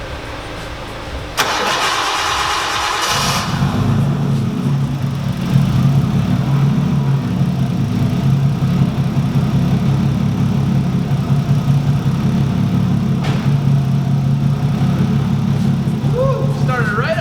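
A Nissan 240SX engine cold-starts with a sudden crank and catch, then settles into a loud, steady, slightly uneven idle that runs a little rich, up close.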